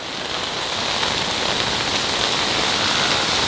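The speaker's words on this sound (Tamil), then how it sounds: "சரியான மழை மக்களே, சான்ஸே இல்ல." Heavy rain pours down at a beach resort, a dense, even hiss of drops hitting surfaces that holds steady and loud throughout with no talk.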